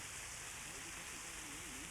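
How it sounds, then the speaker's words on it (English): Steady rain falling as a cartoon sound effect, an even wash of hiss that stays constant and moderately loud throughout. "Oh dear, I hope it doesn't go on raining."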